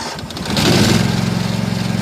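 A lawn mower tractor's engine cranks and catches, rising into a loud, steady rumbling run close by, its rapid firing pulses continuous over the last second and a half, with no talking.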